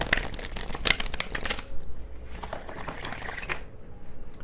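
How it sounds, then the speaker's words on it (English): Tarot cards being shuffled by hand, a run of quick riffling and sliding card bursts up close that stop partway through, leaving quieter rustling and soft handling afterward. "I'm glad I looked at that before I shuffled it and like mixed up all my cards"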